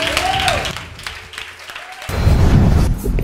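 A church congregation claps and cheers for Jesus during a charismatic worship service, the crowd noise swelling loudly near the end alongside a voice and ringing tones.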